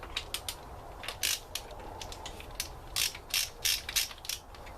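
A ratchet wrench with a 19 mm socket turning a cylinder head bolt on a Honda Accord wagon VTEC engine, quick bursts of close clicking ratchet strokes with short pauses between.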